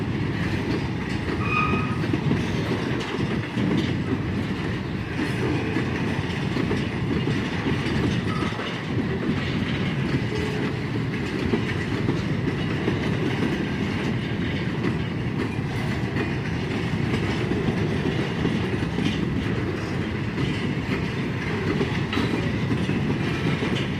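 A CSX freight train rolls past close by, a steady dense rumble of wagons with rhythmic wheel clatter running the whole time, loud and unbroken, with no voices.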